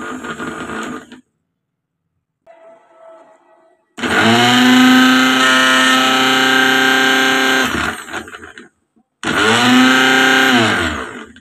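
A repaired electric mixer grinder (blender) runs with a loud, close, high-pitched motor whine, starting and stopping in bursts of a few seconds with short gaps between runs.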